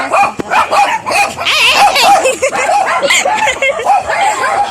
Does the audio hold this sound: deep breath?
no